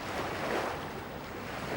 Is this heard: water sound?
yes